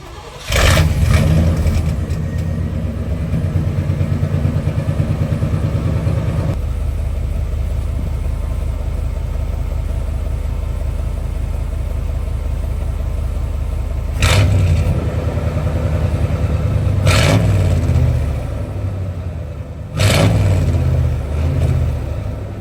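An 88 Chevy C1500 pickup with a full exhaust and Spintech muffler starts up and idles with a deep, steady rumble, broken by several short throttle blips that swell louder before settling back to idle.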